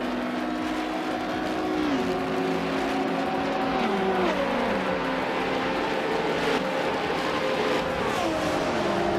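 2012 Praga R1 race cars racing in a video game, high-revving engines whining and shifting through gears in a dense pack, loud and continuous with overlapping pitches rising and dropping.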